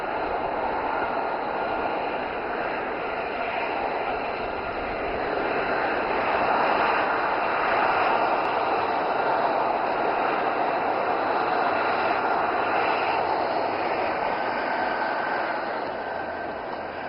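A steady, loud jet-engine roar from an aircraft landing at the Aero India 2025 air show, swelling slightly in the middle and fading a little toward the end, with no voices.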